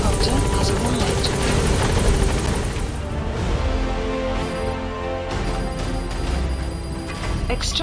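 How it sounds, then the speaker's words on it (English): In Metal Gear Solid V, a support helicopter arrives with a loud, continuous rotor thump and turbine drone close by, accompanied by layered game effects and music-like tones throughout. "Support helicopter has arrived."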